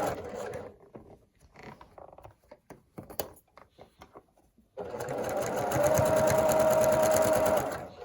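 A sewing machine stitches a quarter-inch seam on a Bargello quilt, running in a steady close whir for about three seconds after a stretch of quiet handling noises.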